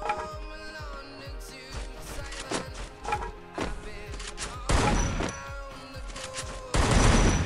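Gunfire in the battle-royale game Free Fire, with irregular bursts of sharp shots in quick clusters and louder volleys toward the end over a background of game music.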